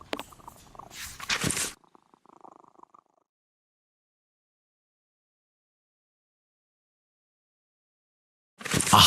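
A wounded cat purring in the Sherlock Holmes vs Jack the Ripper adventure game, heard as a faint, short rumble after a burst of sharper noise, followed by silence and another loud burst at the end.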